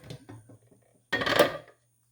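Raw steaks going into a crock pot with sliced onion: a few light clinks and soft knocks early, then a denser clattering, scraping burst of handling near the pot before it falls quiet.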